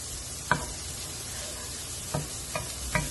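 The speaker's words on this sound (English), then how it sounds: "I'm going to add some butter to my frying pan. Just allow this to just melt." Steady, quiet frying hiss of butter melting in a frying pan, with a few soft knocks and scrapes scattered through.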